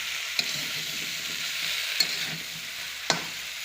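A pan of Bengali shukto vegetable curry sizzles steadily while a utensil stirs it, with three sharp scraping knocks against the pan over a constant frying hiss, close up and with no voices.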